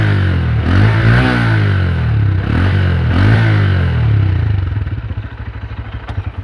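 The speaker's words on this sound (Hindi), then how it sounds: "अगर मैं थ्रॉटल प्रोवाइड करूं तो देखिएगा जो इंजन साउंड क्या आ रहा है" A Honda CB 125 motorcycle engine is revved with the throttle, rising and falling in repeated surges before settling into a lumpy idle, close and loud with no talking.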